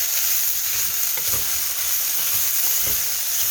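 Food is stirred briskly in a hot pan to scald the base, a loud, constant sizzle with a few soft scraping knocks of the utensil against the pan, close up and with no talking.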